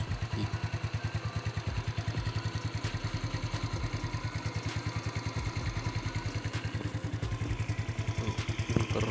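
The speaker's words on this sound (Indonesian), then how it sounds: "Oke, kita cek kondisi mesin dari dekat ya teman-teman, seperti ini" A Yamaha Mio carburetor motorcycle engine idles close up with a steady, fast, even putter and light mechanical clatter, running alone without talk.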